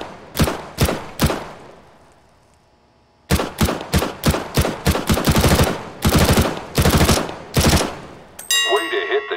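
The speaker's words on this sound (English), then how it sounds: "Pick up that weapon and unload the clip into the target." Gunfire in CS:GO as a weapon is emptied into a wooden target: three loud close shots, a brief pause, then a rapid string of heavy automatic shots ending in a short metallic rattle.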